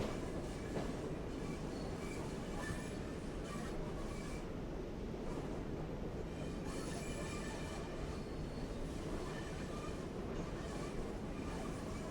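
Train rolling past steadily in Train Sim World 3 on the Great Western Express route, a continuous rumbling rail noise with wheel squeal and faint clatter, fairly loud and unbroken, with no talk.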